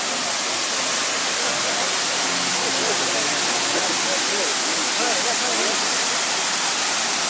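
A tall water fountain jet in Lima, Peru, shooting up to 60 metres, gives a loud, steady hiss of rushing water throughout, with a voice speaking faintly underneath.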